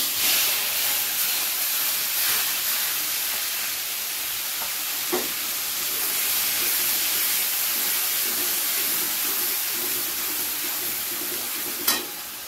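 Chopped onion sizzles in hot oil with whole cinnamon and cumin for a steamed egg curry, a steady close hiss and crackle running throughout with a couple of sharp pops near the middle and end.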